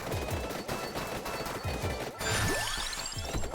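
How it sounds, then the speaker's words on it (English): Diver Mines in the Vampire Survivors video game set off a quick string of sharp, crunching explosions with layered chiming game effects, loud and with no voice over them. "It's causing explosions right on me."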